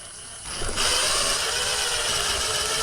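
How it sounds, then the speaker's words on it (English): A power driver whirs up and runs steadily, driving a screw into a plastic mounting plate for an off-road DVR camera, loud and close with no talking. "I'm gonna screw it to this plastic."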